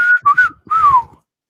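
A person whistles a familiar TV theme tune, three short clear notes then a longer sliding note, loud and close, alone without talk.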